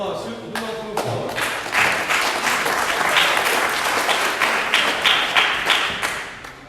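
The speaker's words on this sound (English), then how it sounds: "Give these guys a round of applause." An audience gives a steady round of applause at a gathering, with dense, fairly loud clapping throughout and a few sharper claps standing out near the start.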